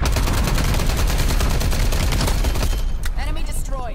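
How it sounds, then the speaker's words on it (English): Incoming artillery strike in Call of Duty Cold War, heard as a loud, dense barrage of rapid explosive blasts and gunfire that pound continuously, then thin out near the end as whistling tones appear. "Incoming artillery."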